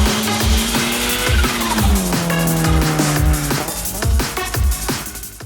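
Acura NSX Type S driven hard: a loud, close engine roars and shifts through gears while the tires squeal and skid steadily underneath, with no talking.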